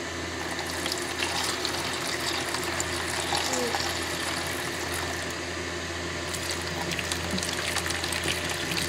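Filtered water pours steadily into chicken egg incubator trays, a continuous rushing flow close by that holds evenly for the whole stretch, with a low hum underneath.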